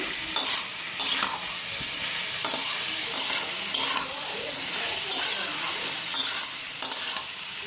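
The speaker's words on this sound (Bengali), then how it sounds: "এখন ভালো করে মশলাটা ফ্রাই করে নিই" Spices fry in a pan with a loud sizzle, broken by repeated scraping stirs every second or so, close and busy.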